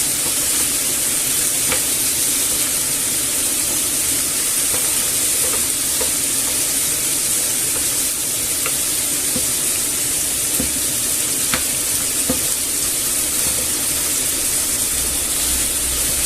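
Chicken breast frying in a pan, a steady loud sizzle and hiss throughout with a few faint scrapes and taps as the pieces are turned over, no voices.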